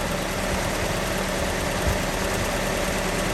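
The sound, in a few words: car engine idling with Weber carburetor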